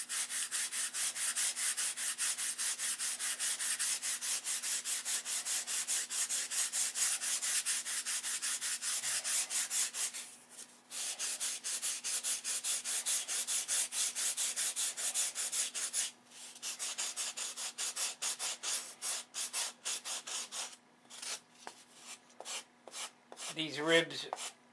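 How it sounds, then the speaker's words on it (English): Sandpaper sanding down foam model-aircraft ribs: a fast, rhythmic scratchy rubbing, close and steady, running almost continuously with a few brief pauses and a handling sound near the end. "for a perfect rib, we take the sandpaper and sand down to the foam"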